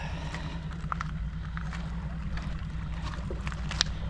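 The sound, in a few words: boat leaving a remote island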